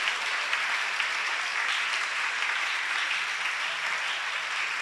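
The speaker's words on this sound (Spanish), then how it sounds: "¿Quién rinde un aplauso a Jesucristo esta mañana?" A church congregation claps during a Sunday morning revival service, a dense, even wash of applause at moderate distance that holds steady throughout with little talk.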